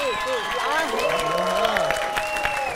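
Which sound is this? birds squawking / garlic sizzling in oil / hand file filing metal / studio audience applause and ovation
studio audience applause and ovation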